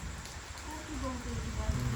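Light rain falls at night onto dry ground outdoors, a faint, steady patter with a few soft drips while someone talks quietly close by.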